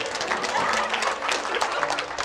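Church congregation applauding, a dense steady patter of many hands clapping at close range, with voices mixed in throughout.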